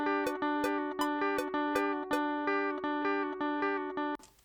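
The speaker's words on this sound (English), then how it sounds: "Right, so I've recorded the guitar parts." Recorded electric guitar part built from repeated short chord stabs, roughly twelve evenly spaced strums with a steady bright harmonic ring between hits, loud and close with no talking, ending on a brief noisy release.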